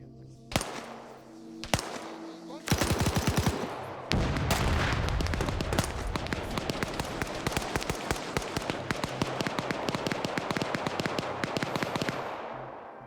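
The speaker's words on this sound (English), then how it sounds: "Something's shooting at us, so watch it." Gunfire in a military video game: a few isolated loud shots, then sustained rapid automatic fire with sharp cracks continuing for about ten seconds, close and dominant with no talk.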